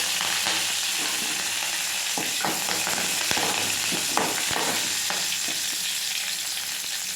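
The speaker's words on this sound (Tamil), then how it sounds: "இப்போ எண்ணெய் ஊற்றி கடுகு போட்டாச்சுங்க. இப்போ கருவேப்பிலை போட்டுக்கலாம்." Mustard seeds and curry leaves crackling in hot oil for a carrot chutney tempering, a loud continuous sizzle with faint popping and occasional stirring knocks, close by with no speech.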